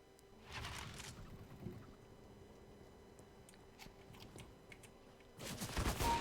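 AWP sniper rifle fire in CS:GO comes as two broad, faint bursts, one near the start and a louder one at the end, with quiet game ambience and small ticks between.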